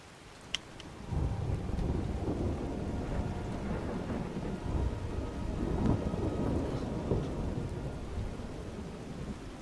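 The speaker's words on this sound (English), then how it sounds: "Actually, let's wait till it's not raining." Rumbling thunder and steady rain fill an outdoor scene in the video game Skyrim, with low rolling booms over a constant patter of rain and no talking.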